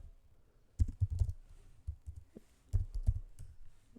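Keys clack on a computer keyboard in two short close bursts of typing separated by scattered single taps, quiet and alone.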